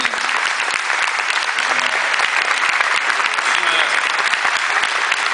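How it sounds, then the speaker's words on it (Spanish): Sustained applause from a crowd, steady and dense clapping throughout without a break. "se merece un aplauso en el día de hoy de la prensa también"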